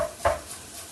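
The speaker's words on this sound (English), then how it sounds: "We want a little bit of texture in there, so we're just going to slice it as thin as we can." A kitchen knife slices garlic as thin as possible while fish tacos are being made, giving one short, crisp cut against the board amid quiet room tone.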